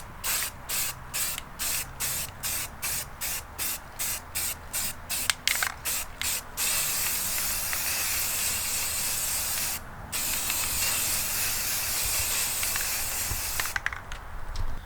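Black spray paint hisses onto truck wheels during a second coat, first in rapid short bursts, then in long continuous sprays with a brief pause, loud and close.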